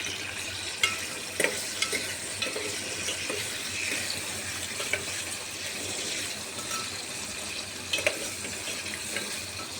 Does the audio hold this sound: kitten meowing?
no